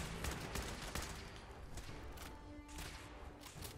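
Rapid gunfire rattles in the video game Fallout 4 during an assault on the Institute stronghold, dense overlapping shots and bursts filling the whole stretch at close range.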